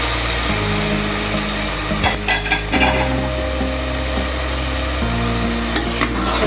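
Chickpeas and potatoes sauté in oil, a loud dense sizzle and crackle close up, with a couple of stirring scrapes and a low steady hum underneath.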